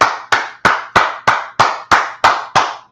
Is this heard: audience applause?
yes